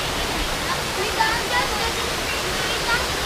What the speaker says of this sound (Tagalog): Dito tayo sa pinaka malaking falls.